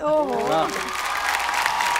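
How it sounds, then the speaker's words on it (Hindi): Clapping for four performers at a poetry gathering follows a short burst of voice. The applause comes as a moderate, even wash that carries on to the end. "तालियां हमारे आज के चारों धुरंधर परफॉर्मर्स के लिए।"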